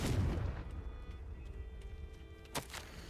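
The Confringo explosive spell goes off in Hogwarts Legacy with a loud booming burst at the start that decays into rumble, followed by a sharper small crack near the end.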